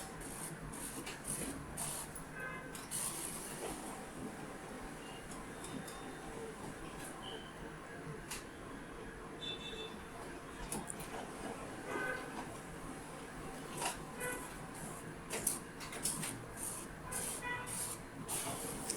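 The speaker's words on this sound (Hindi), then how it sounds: "ये रियल टाइम में सारे जेरोक्स निकल रहे हैं।" An Epson M15140 A3 Wi-Fi duplex ink tank printer runs continuously as it copies pages, giving a steady mechanical whir and hiss with repeated clicks and feed thumps throughout, moderately loud and close.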